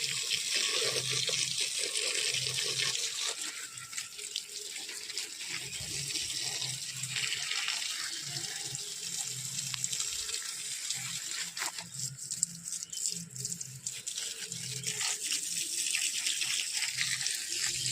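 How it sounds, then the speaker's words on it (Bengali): Tap water runs steadily as garden plants are watered, a continuous close splashing hiss with faint low knocks and shifts in flow throughout. "জল দিয়ে দিই, ওদের জলের দরকার দুবেলা।"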